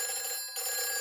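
A cartoon telephone rings with a steady, shrill electronic tone in a Peppa Pig fire station scene, continuous and fairly loud with one brief dip in the middle, and no talk over it.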